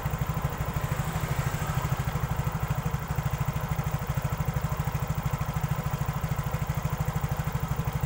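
A Yamaha Mio scooter engine that stalls on its own idles steadily nearby, a loud fast even putter with a faint mechanical clatter, running alone without talk.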